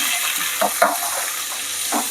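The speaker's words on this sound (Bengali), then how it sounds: "এই গরম তেলের মধ্যে এখন ক্যাপসিকাম, পেঁয়াজ আর কাঁচা লঙ্কা কুচি দিয়ে দেবো" Chopped capsicum, onion and green chili frying in hot oil: a loud, continuous sizzling hiss with small crackles and stirring sounds, with a voice faintly underneath.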